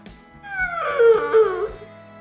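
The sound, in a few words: dog in the garage shop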